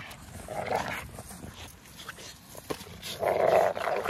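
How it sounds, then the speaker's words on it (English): A puppy growls steadily while biting another dog, low snarls and rough grumbling rising near the end, close and fairly loud amid some background voice. "She's still steadily biting Bishop"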